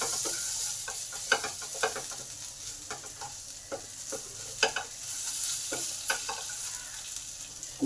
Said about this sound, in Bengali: এই দিকটা কাঁকরোল ভাজা হোক, আর এই দিকটা ক্যাপসিকামগুলো দিয়ে দিলাম